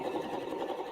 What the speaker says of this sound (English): I'm going to sew with the lock stitch on at the beginning, so everything stays.